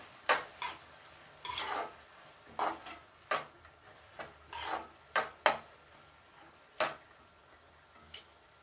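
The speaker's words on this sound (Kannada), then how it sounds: "ಹಾಕೊಂಡು ಚೆನ್ನಾಗಿ ಒಂದು ಮಿಕ್ಸ್ ಕೊಡೋಣ" A spoon scrapes and stirs tomato gojju in a pan, making about a dozen separate close scraping strokes at an irregular pace, with quiet pauses between them.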